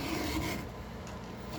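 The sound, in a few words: filing a chain with a file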